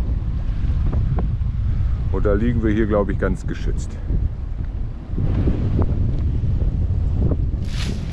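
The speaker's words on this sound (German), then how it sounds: "Und hier wettern wir jetzt den Wind ab, der kommt." Strong wind buffets a sailboat anchored in the lee of a motu at Tahanea atoll in the South Pacific, roaring steadily into the microphone, while someone speaks briefly over the gusts.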